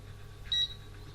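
A single short electronic timer beep at the start of a whisky tasting, faint and isolated over quiet room tone.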